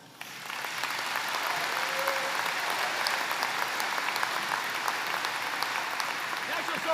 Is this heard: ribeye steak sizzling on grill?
no